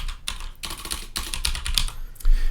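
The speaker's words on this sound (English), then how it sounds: "If I type in a website address like app.works" A website address is typed out on a computer keyboard in quick, uneven bursts of close, crisp key clicks with short pauses between runs, with no voices.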